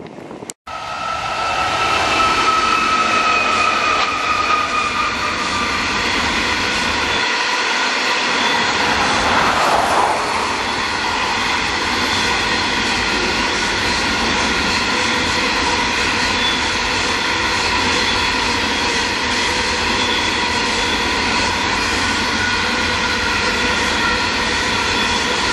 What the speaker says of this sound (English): This is what you call a long train.